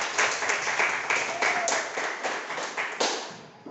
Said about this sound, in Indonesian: kasih aplaus untuk kita semuanya